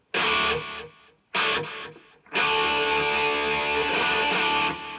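Distorted electric guitar chords ring out in bursts, with a fully mixed delay effect set to zero time thickening each strum before it cuts off.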